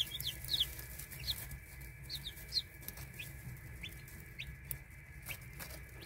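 Baby chicks in a brood pen chirp in short, high peeps scattered through the clip over a low steady hum, with faint pecking and rustling, moderately near and fairly quiet.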